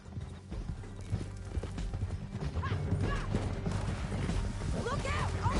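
Horses galloping in Red Dead Redemption 2, a dense continuous clatter of hooves with whinnies and shouting voices over the top.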